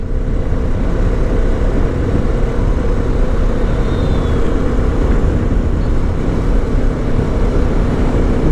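A CF Moto 300SR motorcycle engine runs with a loud, steady, close rumble. The tone stays even, with no clear rise in revs, and no voices are heard.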